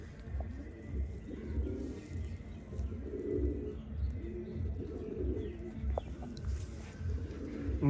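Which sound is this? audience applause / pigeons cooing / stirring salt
pigeons cooing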